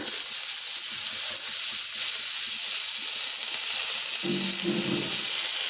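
Carrots, beans and capsicum fry in oil, a loud continuous sizzle with a brief low clatter toward the end, and no talking.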